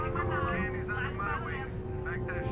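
A fixed-wing aircraft drones steadily in the R.U.S.E. strategy game, a constant engine hum beneath overlapping radio-style voice chatter.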